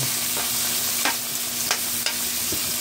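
Garlic and onion sautéing for a bitter gourd dish make a loud, bright sizzle close up, broken by four or five sharp spatula scrapes against the pan.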